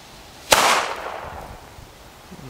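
A Lesli Shock firecracker goes off outdoors with a single sharp, loud bang, followed by a brief crackling decay and then quiet background.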